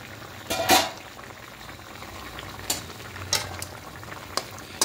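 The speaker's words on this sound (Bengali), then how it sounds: "এবার ঢাকা দিয়ে ডাঁটা আলুটাকে একটু সেদ্ধ করে নেব।" Drumsticks and potatoes simmering in a covered pan, a low steady bubbling hiss broken by several sharp bursts of spitting or lid rattle, close and continuous with no speech.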